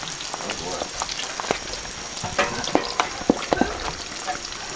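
Iguana eggs sizzle and fry steadily in hot oil, with sharp pops and crackles bursting out now and then, growing more frequent toward the end.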